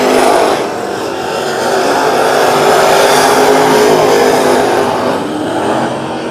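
Modified race cars finish a heat at a speedway, a loud continuous engine roar that swells and eases as they pass, heard without voices.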